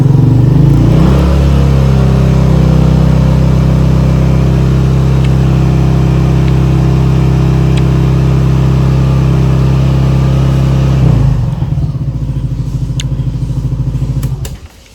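Motorcycle engine held at a steady raised throttle, loud and close with strong low harmonics, then dropping back toward idle near the end; no talking.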